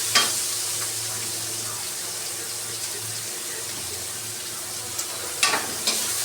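Onion and garlic frying in hot oil for a late Saturday lunch, a steady broadband sizzle throughout with a low hum beneath and a few sharp clinks of a utensil near the end; no talking.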